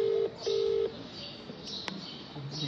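Phone keypad tones while redialing a prank call, two clear sustained beeps in quick succession followed by fainter chirps and a short tone near the end.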